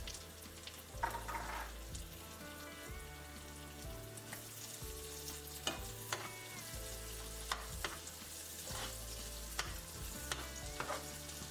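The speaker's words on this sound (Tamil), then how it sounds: "இப்போ இந்த வெங்காயமும் பச்சை மிளகாவும் நல்லா வதங்கி வரட்டும்" Sliced onion and green chilies fry in a pan for a crab masala, with a continuous crackling sizzle and frequent short scrapes and taps of a spoon stirring, and no voices.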